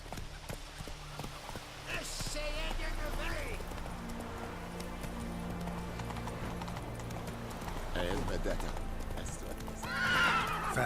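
Roach the horse in The Witcher 3 gallops with rapid clip-clop hoofbeats and lets out loud whinnies near the start and the end, with voices talking over the action.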